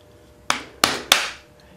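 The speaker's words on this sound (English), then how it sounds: "I tried hitting this with a plastic hammer here, and I'm not getting any movement at all." Plastic hammer striking a stuck part on a dual-action sander three times, each a sharp close knock with a short ringing decay, spaced unevenly about a third of a second apart against a quiet workshop background.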